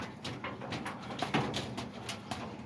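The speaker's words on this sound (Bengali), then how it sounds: "দু একটি কবুতর আমি দেখাবো" Pigeons cooing inside a homemade pigeon house, soft low murmuring coos repeating steadily and close by, with a faint bird call or two over the rounded calls and no speech.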